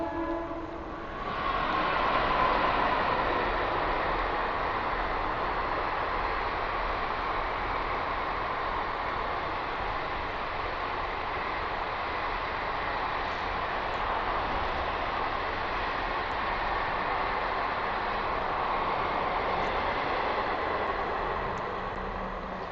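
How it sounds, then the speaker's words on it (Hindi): A train passes nearby with a loud, sustained rolling rumble and roar that swells in early and holds steady for a long stretch, with no talk over it. "ट्रेन आ रही, रुक जाएंगे।"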